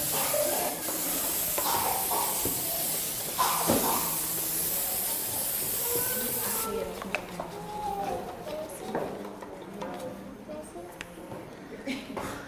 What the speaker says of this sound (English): we're going to spray this with some non-stick spray